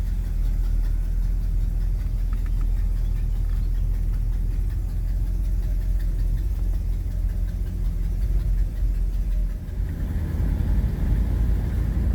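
A 1972 Mercury Monterey Custom's engine runs steadily, a loud, close low rumble that holds an even drone throughout with a brief dip and a heavier surge near the end.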